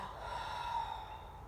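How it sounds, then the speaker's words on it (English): A steady, close breath during a Pilates chest expansion exercise, drawn in and pushed out in one continuous airy stream with no talking. "So breathing in. Exhale."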